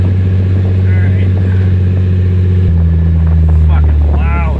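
A drift car's loud engine idles and runs close by in a deep, steady drone that shifts pitch partway through, while a person talks over it.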